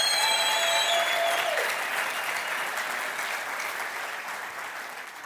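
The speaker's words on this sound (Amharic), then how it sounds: "ለራሳችሁ ከባድ ጭብጨባችሁ" A congregation at a church service bursts into loud, sustained applause that fills the room, then slowly fades over several seconds, with no voices rising above it.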